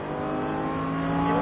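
Lamborghini Huracan LP-610 accelerating hard on a racing circuit, a loud, steady engine roar with its pitch climbing continuously and no talk over it.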